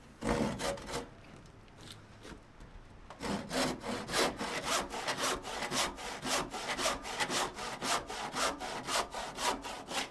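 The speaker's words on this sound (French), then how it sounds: "Je vais maintenant les scier avec la scie Saint-Joseph dans mon étau." A Saint-Joseph hand saw rasps through a wooden board held in a vise in quick, regular back-and-forth strokes, with a short pause before the sawing resumes steadily, close up.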